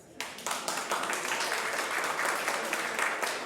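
Audience applause at a breakfast forum with a presidential precandidate, dense crowd clapping starting abruptly and holding steady and loud for several seconds.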